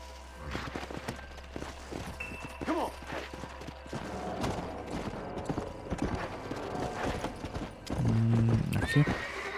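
In Red Dead Redemption, a horse gallops with quick, steady hoofbeats, then gives a loud, close whinny near the end.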